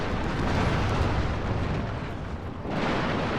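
Naval cannon fire from warships blockading an enemy frigate in Total War Shogun 2: Fall of the Samurai, a dense, continuous, loud rumbling barrage of overlapping blasts that dips briefly before swelling again.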